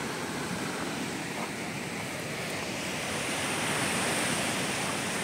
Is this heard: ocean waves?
yes